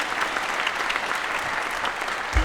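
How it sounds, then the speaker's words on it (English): Applause fills the hall at a high school concert band's winter concert, a steady, dense crowd clapping that holds evenly throughout with a thump near the end. "Give them a round of applause."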